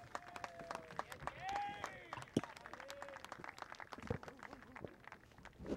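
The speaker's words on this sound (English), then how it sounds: "Big round of applause for David." Outdoor crowd applause on a high school boys' soccer senior night, scattered claps and cheers from a distance with voices calling over them and sharp whistle-like squeals, fairly faint overall.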